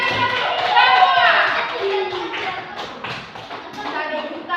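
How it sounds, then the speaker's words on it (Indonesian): Children in a classroom clap together in a loose, uneven patter of applause, with young voices and an adult speaking over it throughout. "Tepuk tangan untuk Aisyah dulu."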